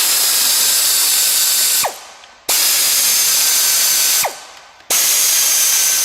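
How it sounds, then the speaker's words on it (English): A compressed-air power tool loosens automatic transmission fasteners in two loud, sustained bursts of several seconds each, each ending in a brief spin-down before the next burst starts abruptly, with no talking. "now that the compressor's turned off and we've got all our fasteners loosened up"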